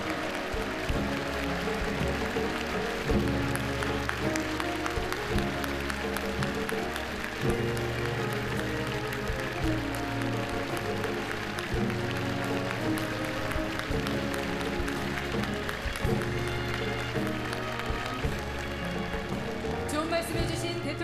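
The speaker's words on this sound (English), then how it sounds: "Let us give a big round of applause to the President for his kind words." Sustained applause from a large audience at a ceremony marking the 70th anniversary of the Korean War Armistice, a dense, steady wash of clapping lasting about twenty seconds without a break.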